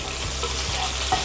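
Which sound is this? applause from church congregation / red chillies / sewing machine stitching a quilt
red chillies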